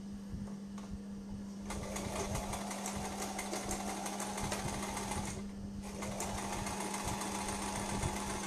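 Sewing machine stitching a baby frock, running steadily at close range with a constant motor hum and rapid needle clatter, pausing briefly about midway before resuming.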